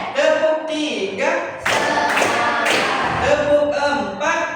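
A classroom of students answers a call for three claps with a quick burst of sharp, fairly close hand claps, framed by a teacher's voice before and after.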